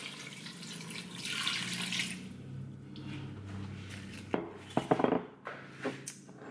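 Water poured from a purple cup into a cooking pot of turkey necks, a steady splashing pour that fades, followed by a few close clinks and small liquid sounds.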